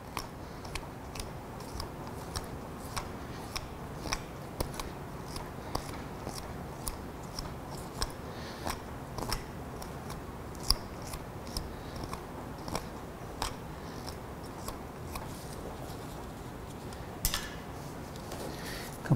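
A knife pares horn from a cow's medial claw during hoof trimming, making quiet, repeated clicks and short cutting snicks at an uneven rhythm against a low background hush.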